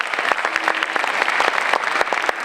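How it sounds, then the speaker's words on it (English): Audience at a comedy fundraiser for Puerto Rico giving a round of applause, close, fairly loud clapping with distinct individual claps over a steady crowd wash. "how about one more round of applause"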